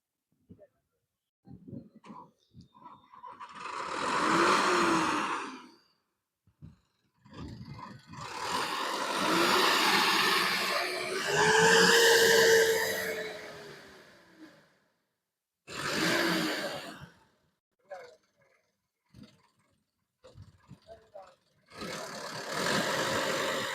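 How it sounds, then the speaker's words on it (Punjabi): A tractor engine roars in several loud surges, revving up and dropping away between bursts, close by. "ਦੇਖੋ ਮਿੱਤਰੋ ਐ ਕੱਢਦਾ ਲਾਟਾ ਟਰੈਕਟਰ ਨਾਲ"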